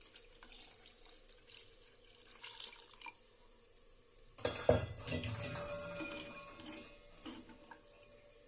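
Water runs into a cooking pot, followed by metal clatter from the pot and a utensil, moderately close with no talk.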